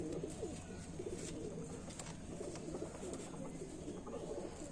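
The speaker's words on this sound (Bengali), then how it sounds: "পায়রাটা দেখো কত সুন্দর, অনেক অনেক সুন্দর" Pigeons coo softly in a loft, low repeated throaty calls layered over a steady background hum, fairly faint and continuous, with no clear talk over them.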